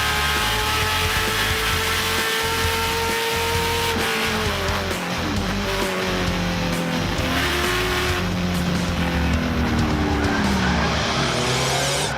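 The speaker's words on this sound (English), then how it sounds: "A little bit more slide than we want to see, but he hung on. Barely saved it." A race car sliding into a corner at Portland, tires squealing and skidding in long wavering tones over a continuous loud engine roar that shifts pitch as it revs, with no voices.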